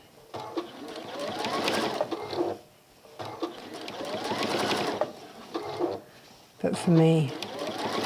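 A sewing machine runs in bursts while stitching a fabric caddy, its rapid whirring needle drive starting and stopping several times as someone talks over and between the runs.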